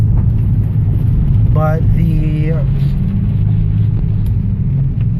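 A 2003 Nissan 350Z Touring idles with a loud, deep exhaust rumble that runs steadily throughout, and a brief voice is heard over it.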